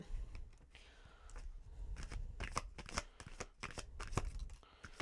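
Tarot cards are shuffled and drawn in a close, quiet room, giving a run of crisp riffling bursts and soft flicks with brief pauses between them and no voice.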